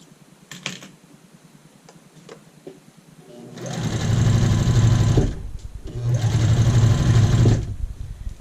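A sewing machine edge stitches an apron side seam hem in two close, loud bursts of fast rhythmic needle chatter, each about two seconds, separated by a pause, after a few light handling clicks.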